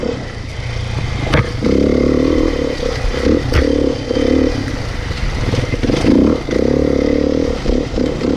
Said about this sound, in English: This thing is a blast to ride. So for a big bore 4-stroke, man, this thing feels nimble in the bush.